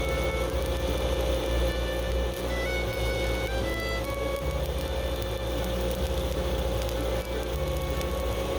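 Stick welding with a 7018 rod on a rusty steel pipe fence, giving a steady, loud crackling sizzle that runs unbroken under a low background hum.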